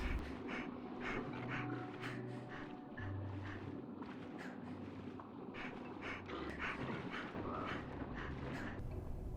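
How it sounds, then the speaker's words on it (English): Heavy, rhythmic panting of an Ankylosaurus in ARK on the Crystal Isles map, steady and close but quiet, with soft footsteps and no talking. "Is that the Anki breathing heavily, or is it me?"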